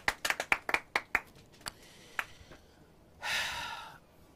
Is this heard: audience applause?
yes